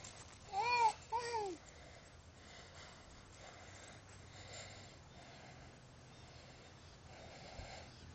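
A pig snorts and sniffs in a couple of quick, close bursts near the start, then only faint low rustling and breathing noise remains.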